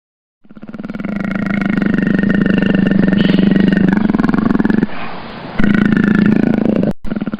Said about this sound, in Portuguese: Esse é o som do leopardo.